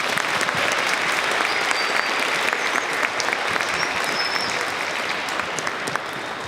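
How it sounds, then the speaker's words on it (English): A crowd at a Martin Luther King Jr. Day celebration applauds steadily and loudly for the educators and organizers, dense clapping holding throughout with a slight easing toward the end. "Give them a round of applause for creating this today."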